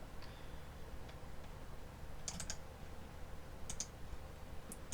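A computer mouse clicks while copying and pasting cells in an Excel spreadsheet. A few sharp, quiet clicks come in small clusters against a soft room hush.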